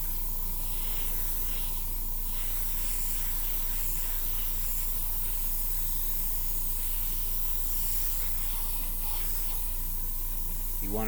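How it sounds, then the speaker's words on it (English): A steady, close hiss of clear coat being sprayed as a light mist over a scale model, continuous and unbroken throughout. "we're going to just lightly mist over the whole thing here now"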